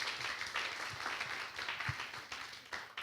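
A church youth congregation claps steadily for a few seconds, a dense wash of applause filling the room with no voices over it.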